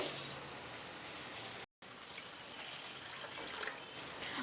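Steady swishing and trickling of water, close and continuous, as rice is rinsed by hand in plenty of water, with a brief cut to silence partway through.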